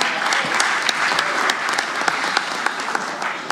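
A large crowd at a political event gives loud, lively applause, a continuous roar of many hands with individual sharp claps popping out across the whole stretch.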